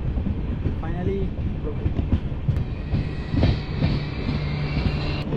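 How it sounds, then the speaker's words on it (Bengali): The Vistadome tourist train on the Alipurduar–Chalsa Dooars special pulls into Rajabhatkhawa station with rolling wheel clatter, rhythmic clicks and a low droning tone. The sound is loud and near throughout. "আমাদের ট্রেন এসে পৌঁছালো রাজাভাতখাওয়া"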